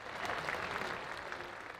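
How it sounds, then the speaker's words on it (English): Crowd applause at an Edmonton Riverhawks versus Nanaimo NightOwls sports event, honouring first responders and healthcare workers; steady, dense clapping from a large audience fills the arena with no talk over it. "Loud and proud round of applause for our first responders and healthcare heroes."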